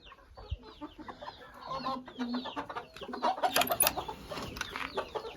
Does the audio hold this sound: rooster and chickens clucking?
yes